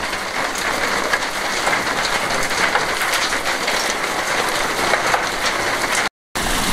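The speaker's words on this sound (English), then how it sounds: "Big lumps of rain." Heavy rain shower pouring down on a rural property in Spain, a dense, steady hiss of drops drumming on surfaces with no break, loud and close throughout, with no voices.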